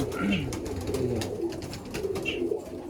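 Pigeons coo in a loft at the T&J brothers' place, a low repeated burbling that runs steadily under a dense background of other birds and people talking nearby.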